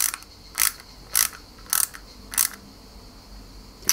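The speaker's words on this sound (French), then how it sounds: "On y met une petite vis IP, vis tête plate. Ok. On visse délicatement." A small screwdriver turns a tiny flat-head screw into a 1/8 scale Lotus Renault 97T model car. Five short, crisp ratcheting clicks come at an even pace, close and alone, with no voices.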